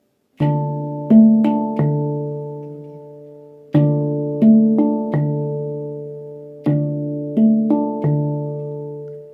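A handpan plays a repeating phrase of a few ringing, resonant notes, with the low central ding struck together with a left-thumb note at the start of each cycle and long decaying tones.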